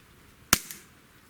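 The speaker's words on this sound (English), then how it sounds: "We'll shoot 5 shots over the chrony, and let's see how our average is." A single sharp shot from a CZ SP-01 Shadow CO2 pistol fired over a chronograph, one loud crack followed by a short faint echo, with nothing else around it.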